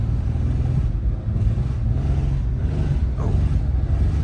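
A car with its oil changed using Dawn dish soap revs and strains off-road near a ditch, its engine a loud, steady low rumble with surging throttle and a torquey, reluctant shift throughout.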